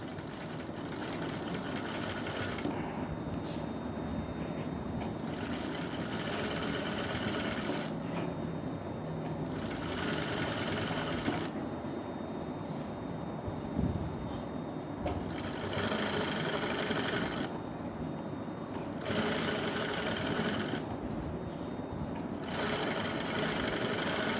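Sewing machine stitching a belt blouse in a tailoring class, running slowly in repeated bursts with short pauses between, a steady close mechanical whir and clatter.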